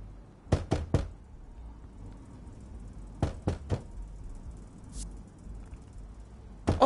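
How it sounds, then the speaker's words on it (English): Knocking on a door in the video game The Assembly: three separate bursts of three sharp, loud raps each, evenly spaced, with a quiet hum between them and no talk. "Oh, the door's knocking."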